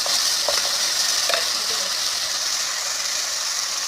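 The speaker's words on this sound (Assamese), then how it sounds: "বিলাহীখিনি দি পেলাই নিমখ, হালধি এনেকৈ দি পেলাই বিলাহীখিনি ভালদৰে ভাজি ল'ব লাগিব।" Tomatoes with salt and turmeric fry in oil in a pan, a loud, steady hiss of sizzling throughout, with a couple of brief stirring scrapes near the start.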